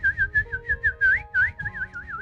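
A man whistles a quick warbling tune in a series of short, close, bird-like chirps, imitating a ballpark Birdman whistle.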